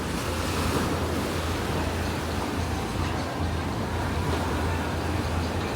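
Ocean surf rolls onto a beach in a constant broad wash with wind buffeting the microphone, and there is no clear talk.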